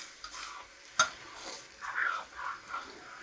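Eggs are stirred into water in a pot on low heat, giving soft swishing and scraping strokes with one sharp clink of the utensil against the pot, close and quiet, with no talking.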